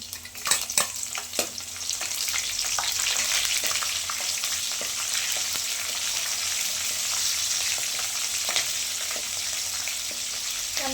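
Chopped garlic and green chillies fry in a hot pan for capsicum chitranna, a steady close sizzle under sharp scrapes and clatters of a stirring spoon.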